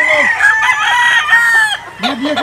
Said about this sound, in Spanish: Estos son los gallos que la gente me dejó